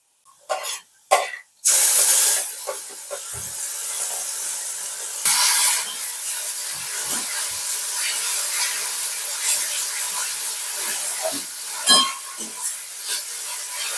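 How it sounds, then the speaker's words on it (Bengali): Ground pointed gourd paste hits hot fried onions in a pan, and a loud, steady sizzle hisses on from the first seconds after a few short knocks, fading slightly and flaring again near the end. "পেঁয়াজ ভাজা ভাজা হয়ে গেছে বেটে রাখা পটল দিয়ে দিচ্ছি"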